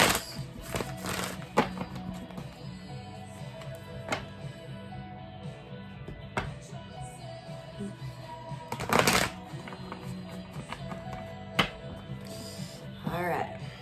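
Tarot cards are shuffled in short, crisp riffles and soft slaps, repeated at irregular intervals, fairly close and quiet, with some talking in between.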